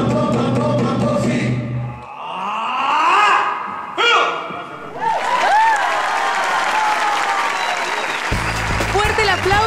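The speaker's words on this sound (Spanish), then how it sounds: "Fuerte el aplauso." Studio audience applause on a Latin American TV talent show after a dance performance, steady and loud, mixed with music and voices that ride over it throughout.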